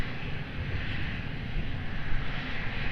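A jet airliner taking off from the runway at Lisbon Airport, heard as a steady, distant broadband engine roar that holds even and swells slightly toward the end.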